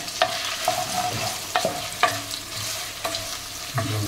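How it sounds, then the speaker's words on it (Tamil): Onions sautéing in a pan with bay leaves for a village-style country chicken curry, a close, steady sizzle punctuated by rhythmic scrapes and taps of a stirring spoon against the pan. "வெங்காயம் நல்லா வதக்கிக்கிறோம்"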